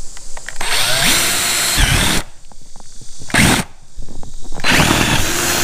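Power drill boring through a steel bracket on a Toyota T100 pickup during a lightbar install, loud close grinding whine in several bursts separated by short pauses, with no talking.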